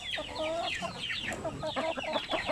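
Sampin native chickens, a pure breed raised on a farm in Bukidnon, cluck and call repeatedly in close, busy chatter, several birds overlapping with short throaty notes throughout.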